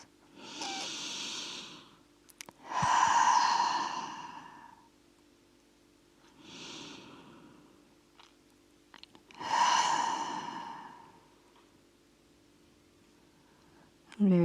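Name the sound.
deep breaths exhaled through the mouth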